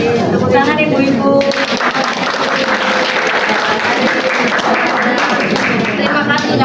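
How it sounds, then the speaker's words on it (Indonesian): Audience applause at a women's worship fellowship evening gathering, a dense, steady wash of clapping from a crowd filling the room, sustained loudly throughout with no break. "Tepuk tangan ibu-ibu"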